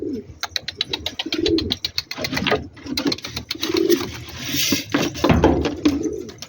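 Released pigeons at a loft coo in repeated low, rolling calls close by, several birds overlapping against a fast ticking, rattling background that runs through the whole stretch, with no voices.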